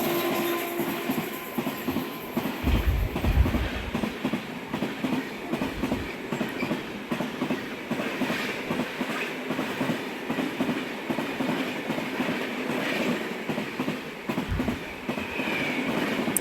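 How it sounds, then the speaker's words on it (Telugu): At Nidigal station, a train passes close with a continuous rumbling rush and rhythmic clickety-clack of wheels over rail joints, steady and fairly loud for the whole stretch. "ఒక ట్రైన్ వచ్చేసి మన బండిని క్రాస్ చేస్తుంది"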